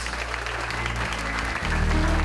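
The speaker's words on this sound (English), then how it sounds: "give them a big round of applause" A large audience at a volunteer honors event applauds steadily throughout, with a low hum underneath that gets louder near the end.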